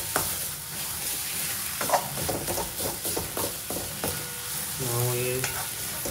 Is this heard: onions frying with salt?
yes